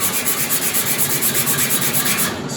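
Sandpaper rubbed by hand over a rust-repair area on a Toyota Hilux Mk2 steel body panel, a close, steady scuffing rasp with rhythmic back-and-forth strokes, with no talking.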